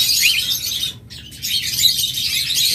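A pair of cockatiels chirps continuously in dense, bright, overlapping calls, with a brief gap near the one-second mark before the chatter resumes.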